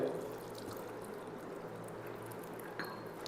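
Water poured into a cup of granular green tea, cooled to under 90 degrees, a steady soft pouring stream with a faint click near the end, no talk over it.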